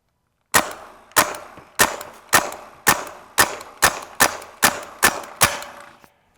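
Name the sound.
air rifle shooting watermelons in rapid fire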